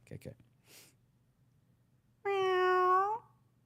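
After a couple of short noises and a breath, a person imitates a cat with one drawn-out, clear meow, loud and close.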